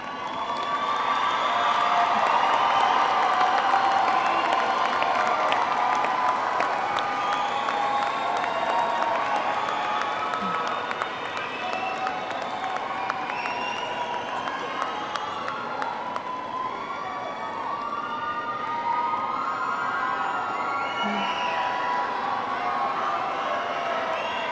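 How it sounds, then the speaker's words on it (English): High school graduation crowd applauding and cheering to thank their supporters, sustained clapping mixed with shouts, whoops and scattered voices from a large, standing audience, strongest at first and gradually easing while chatter continues. "with a round of applause, thank them for all they have done in helping you reach this goal"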